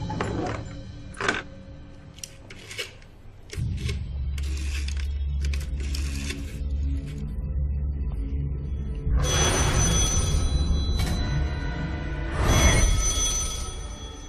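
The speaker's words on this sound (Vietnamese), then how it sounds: "Lôi Sử, có điện thoại gọi tới đấy." A telephone rings in a room, repeated electronic ring bursts standing out over a steady low hum and background noise, with a few knocks and rustles between the rings.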